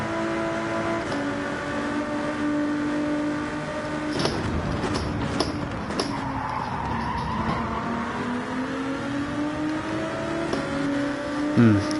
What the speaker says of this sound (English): Our car doesn't have the acceleration to match Citroen there.